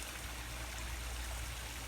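Water pours steadily through a pond skimmer drain, a close and constant rushing gurgle with no breaks and no voices.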